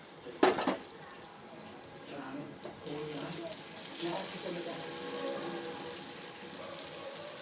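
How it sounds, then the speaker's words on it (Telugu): Finely grated raw mango hits hot tempering in a pan for mango pulihora, a sharp clatter followed by a soft continuous sizzle and stirring, while a voice talks over it. "ఇంకా పోపు వేసిన పోపులో మామిడికాయ తురిమింది"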